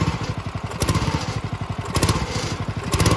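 Small go-kart engine given a little throttle, a close, loud, rapid pulsing putter with some clattering thumps throughout.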